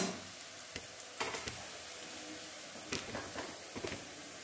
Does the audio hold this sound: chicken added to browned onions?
yes